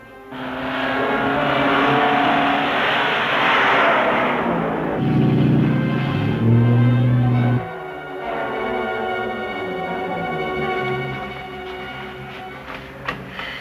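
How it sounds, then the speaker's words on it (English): A 1940s car pulls away with its engine revving and droning loudly, changing pitch as it accelerates, then drops off into a fainter fading hum as it drives off. "Mr. Kelly is taking my car and leaving for the mine now"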